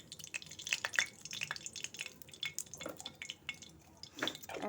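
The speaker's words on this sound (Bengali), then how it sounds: "বাকি তেলটার মধ্যে আমি পরিমাণ মতো ঘি দিয়ে দিচ্ছি" Ghee goes into the hot oil left in a pan after frying paneer, soft crackling and sizzling spatters with light clinks of utensils, close and quiet, no talk.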